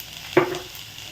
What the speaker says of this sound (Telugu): గ్రౌండ్ నట్స్, క్యారెట్ అయితే యాడ్ చేస్తున్నానండి. యాడ్ చేసి ఒక 2 మినిట్స్ అయితే ఫ్రై చేస్తానండి.